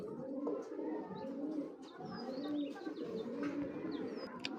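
Breeding pigeons in a loft coo in low, rolling throaty phrases, repeated steadily and close by, with faint chirps and tweets scattered over the top and no talking.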